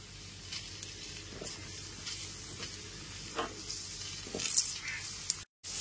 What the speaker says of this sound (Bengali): সর্ষের তেলটাও এখানে খুব ভালো মতো গরম করে নিয়ে তাতে কেটে রাখা আলুর টুকরোগুলোকে দিয়ে দিচ্ছি